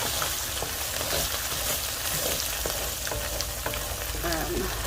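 A utensil scrapes browned bits off the bottom of a beef stew pot while the meat sizzles, a steady close frying hiss with soft scraping strokes mixed in.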